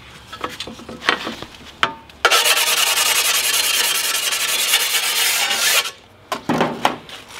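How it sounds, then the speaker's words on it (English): A rub stone grinds along a chipped ceramic wall-tile edge in a steady, rasping stroke lasting several seconds, close and loud, with shorter scraping passes before and after. "this is the rub stone. Almost took all those chips out."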